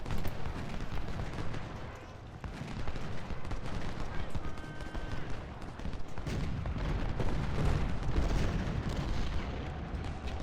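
Massed musket volleys and artillery booms rolling continuously through a Civil War battle at Bull Run in Ultimate General: Civil War, a dense, steady roar of distant fire with occasional voices underneath.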